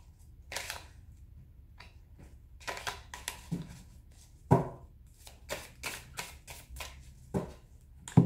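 Tarot cards are shuffled and cut by hand: a series of sharp, close riffling and slapping bursts, irregularly spaced, with quiet gaps between them and no talking.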